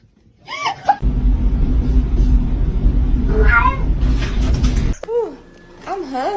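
A cat meows repeatedly at close range, with rising and falling cries at the start and end, while a loud rumbling noise and human voices fill the middle.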